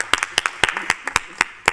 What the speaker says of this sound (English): That's the first round of applause at DCA since I've chaired it.